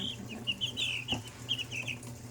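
Several older chicks cluck and peep in short bursts, a fairly close and soft flurry of bird calls over low background hum.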